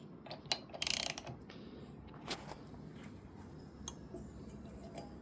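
A gear being tightened onto the shaft of a Roots 47 URAI DSL blower gives faint mechanical clicks and one short ratcheting burst in a quiet room, with no talking.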